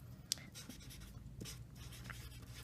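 Pen writing out a math problem by hand, a quiet scratchy stroking with one sharp tap near the start and soft continuous scribbling after, close and faint with no talking.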